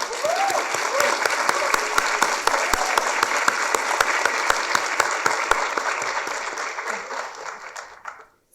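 Audience applause for a selection team at a social impact programme session, sustained crowd clapping with crisp nearby claps, a voice briefly audible early on, fading out at the end.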